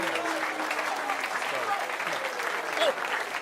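Crowd applauding at a PBA bowling stepladder final, a steady, dense wash of clapping throughout with a commentator talking over it.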